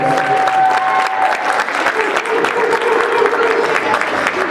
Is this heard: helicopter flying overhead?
no